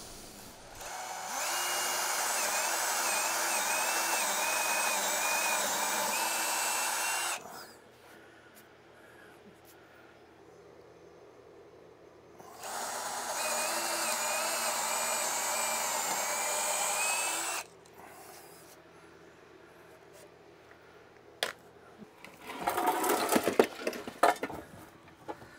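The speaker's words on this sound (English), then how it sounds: "so I need to drill 2 5/16 holes, 1 for each bolt" Power drill boring holes into concrete for anchor bolts in a storage building wall, two loud sustained whining bursts of several seconds each separated by quiet, followed by brief clattering handling noise.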